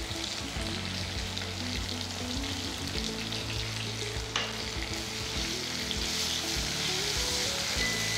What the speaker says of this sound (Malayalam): വെണ്ടയ്ക്ക കുക്ക് ചെയ്യുന്ന വരെ ഒന്ന് വഴറ്റിയെടുക്കും.